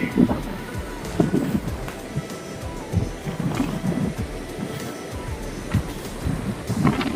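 Sea waves washing onto the shore at Veli tourist village in Thiruvananthapuram, where the sea surges up and has broken parts of the embankment; a continuous broadband rush with wind and low rumbling surges, fairly loud throughout.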